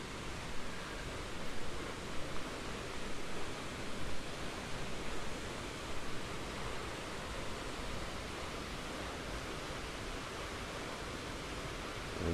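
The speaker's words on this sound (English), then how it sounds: "So I think we're coming up on the falls." Carpenter Falls, fed by Bear Creek, pours in a steady broadband roar of falling water, a dense continuous rush that holds even and close throughout with no voices over it.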